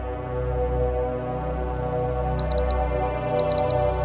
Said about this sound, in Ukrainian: Будильник пролунав о п'ятій ранку